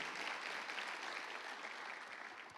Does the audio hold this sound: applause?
yes